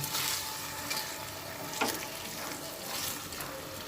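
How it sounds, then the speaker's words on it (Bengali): A bottle gourd peel kofta curry bubbles and sizzles softly in a pan after a little water is added. It is stirred close up, with a brief scrape of the spoon partway through. "অল্প পরিমাণে জল দিলাম দেওয়ার পরে আবার একটু ভালোভাবে নাড়াচাড়া করে নিচ্ছি"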